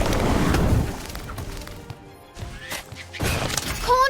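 The Incendio fire spell cast in Harry Potter Magic Awakened, a mobile game, heard as a bright whooshing blast followed by crackling impacts and rising chime-like effects amid busy game sound.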